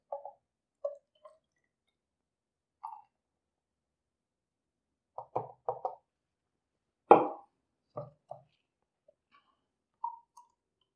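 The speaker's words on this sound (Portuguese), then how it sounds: "Um pouquinho mais de água só para lavar." Small splashes and drips of water rinse out a beaker in a chemistry lab, coming in sparse, close bursts with quiet gaps between them.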